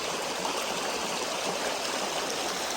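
Creek water streams steadily past at close range, a continuous broadband rush with no voices, heard while crossing to a trap line on the other side.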